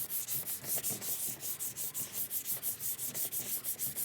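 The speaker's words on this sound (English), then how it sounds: "we're going to be sanding this primer with 220 grit sandpaper on a block" Hand sanding primer on a Porsche Cayman S body panel with 220 grit sandpaper on a block, a rhythmic back-and-forth scratching in quick even strokes, close and steady, with no talking.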